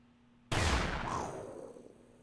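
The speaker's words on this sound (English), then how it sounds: "The deafening roar of a gunshot ripped through the air, followed by a shriek." A single loud gunshot erupts in the Psycho-Pass Mandatory Happiness video game, a sharp blast that bursts in abruptly and then rings and decays over about two seconds.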